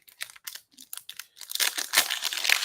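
Crinkly foil wrapper of a Topps Chrome basketball trading card pack torn open up close, a few short crackling bursts building into a denser, louder crumpling rustle.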